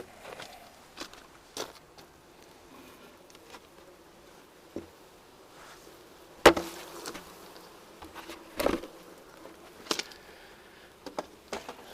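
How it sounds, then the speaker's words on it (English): A low, steady hum of many honey bees buzzing close by in the top box of a hive, with a few soft knocks and thumps scattered throughout. "Lots of bees in the top box."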